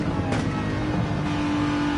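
Race car engine at Suzuka in Gran Turismo 7, a loud steady high-revving drone with a quick downshift blip, continuous and close, no talking.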